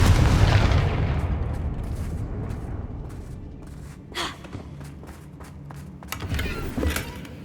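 A Confringo fire spell in Hogwarts Legacy bursts with a loud opening boom. Rumbling low energy follows and slowly fades, and a few sharper crackling hits come later in the game action.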